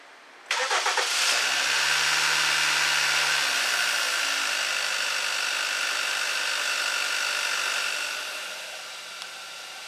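A car being checked for cam correlation codes fires up for its first startup: a quick crank catches into a loud, steady idle with a high whine, slightly high at first, then settles lower near the end.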